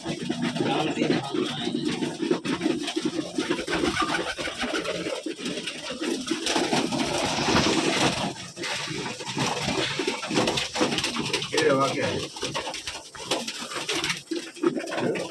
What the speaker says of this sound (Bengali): এই যে ছোট ঘর দেখছেন, এখানে আবদ্ধ অবস্থায়